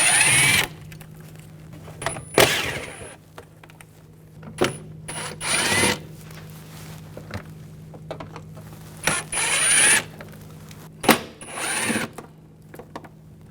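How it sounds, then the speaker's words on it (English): A T25 socket on a tool works screws out during headlight replacement on a 2004-2009 Audi A4 Quattro, heard as short whirring bursts separated by pauses and clicks, close and fairly loud. "Using a T25 socket, remove these screws."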